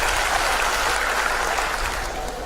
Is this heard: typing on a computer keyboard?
no